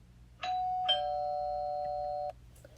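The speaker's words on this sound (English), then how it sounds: "That night, after supper, the doorbell rang." A doorbell rings once with a two-tone chime, the second tone ringing out and sustaining for over a second before cutting off.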